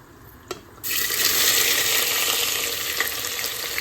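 Onions and slit green chillies hit a hot pan for a one-pot tomato rice, bursting into a loud, steady sizzle after a brief quiet moment and a small clink, continuing close and bright with no talk.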